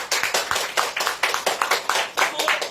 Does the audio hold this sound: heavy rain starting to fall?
no